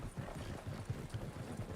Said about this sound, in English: Everywhere they go is by horse and buggy.